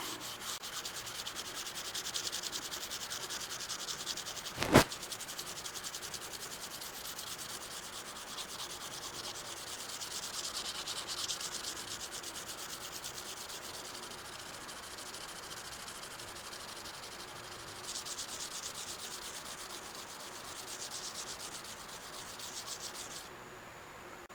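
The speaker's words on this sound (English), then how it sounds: "gonna take another piece of 600 and go back over that" A hand sands the saddle of a 14.5 South Bend metal lathe with 600 grit sandpaper, making steady, faint, rhythmic rubbing strokes with one brief sharp knock near the start.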